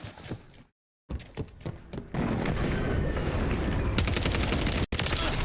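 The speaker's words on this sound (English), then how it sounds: "Hostile airstrike near your location." Gunfire and airstrike explosions in the shooter game XDefiant: a few sharp shots, a brief dropout, then a sustained roar of rapid automatic fire and blasts that continues loudly to the end.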